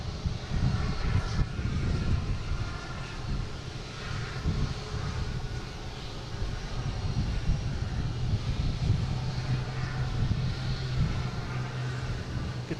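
A Cape Air airplane taxis toward the runway for takeoff at Boston Logan International Airport in the evening, giving a steady, continuous engine drone with a low hum that holds throughout at moderate distance.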